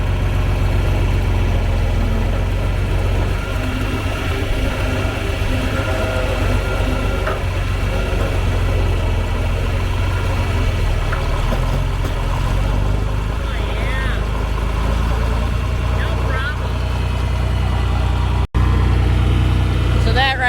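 A farm vehicle's engine idling, a steady low rumbling drone that runs evenly and fairly loud close by, with a short break near the end.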